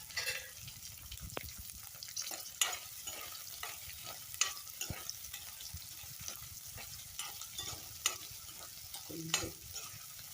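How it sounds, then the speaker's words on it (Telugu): Onions fry in a pan with chillies and pepper, giving a low steady sizzle broken by irregular clicks and scrapes of stirring, quiet and close, with no voices. "కొంచెం వేగితే చాలండి, ఎందుకంటే ఆనియన్స్ వీటితో పాటు ఉడికితే ఆనియన్స్ ఫ్లేవర్ కూడా దిగుతుంది."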